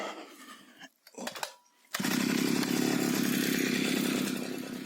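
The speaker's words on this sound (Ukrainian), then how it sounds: "Робота коси після регулювань карбюратора і його прочистки відповідна." A two-stroke brush cutter engine starts after carburetor cleaning, sputtering briefly before catching, then runs close by in a loud, steady buzzing drone that eases slightly near the end.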